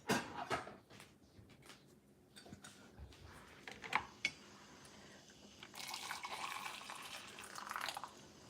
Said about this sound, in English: I just pour a little bit of hot water on them just to soften them up a bit.